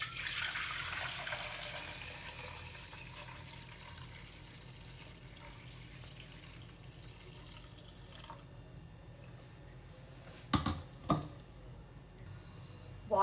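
Broken rice grains being washed in water, a running, splashing wash that is louder at first then settles into a low steady trickle, with a few sharp knocks and splashes toward the end.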